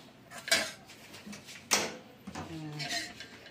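A metal wok set onto a stove, with a couple of sharp clanks and scrapes of cookware alongside lighter rattles, close and moderately loud, with a voice speaking in between.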